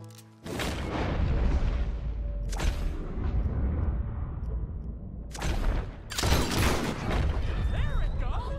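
Several loud, sharp gunshots from Red Dead Redemption 2 ring out at uneven intervals, each followed by a rolling echo, with voices talking between the shots.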